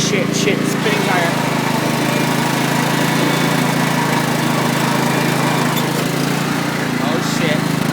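A lawn mower engine runs steadily and loud on a hill while its tire spins, a continuous buzzing drone with no breaks and faint bursts of talk over it.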